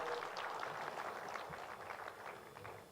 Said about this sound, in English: Can we give another round of applause for Greg?